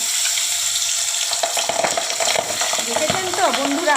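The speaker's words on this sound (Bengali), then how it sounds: "দেখেছেন তো বন্ধুরা কীরকম ফোটে" Pabda fish frying in hot mustard oil, a steady loud sizzle with sharp crackling spatters and pops throughout, alone with no voices.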